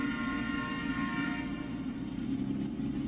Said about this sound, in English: I was wondering if we were going to hear any trains in this episode.